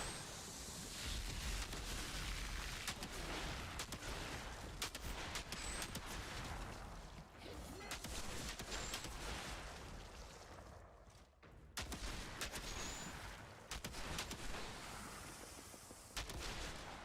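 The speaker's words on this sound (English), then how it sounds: "I like the explosion." Continuous bursts of gunfire and rolling explosions from the Outriders shooter game fill the whole stretch, loud and dense, with a few brief lulls.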